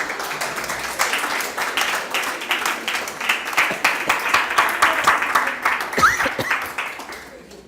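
A church congregation applauds during a Spanish-language discipleship service, with dense steady clapping swelling and pulsing for several seconds before thinning out near the end, fairly close and loud.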